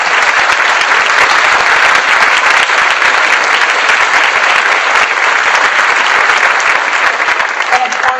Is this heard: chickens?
no